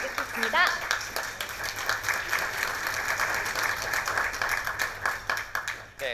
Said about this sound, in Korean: 다시 한번 열강해 주신 김창수 사무처장님께 큰 박수 보내드리겠습니다.